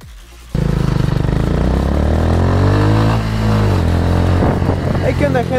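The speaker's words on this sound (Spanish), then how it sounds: "aquí estamos probando la Itálica 250Z" An Italika 250Z motorcycle on a test ride starts abruptly and revs hard, a loud, close engine roar whose pitch climbs, dips and climbs again with continuous mechanical buzz.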